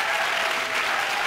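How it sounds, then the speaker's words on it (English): An audience at a summit startup pitch event claps in a dense, steady burst of applause, loud and continuous throughout. "Round of applause for a parent."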